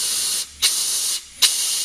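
A pistol grip air blower blasts compressed air into the jets of a Tecumseh snow blower carburetor: a loud, close, steady hiss broken by two brief pauses, each resumed with a sharp burst.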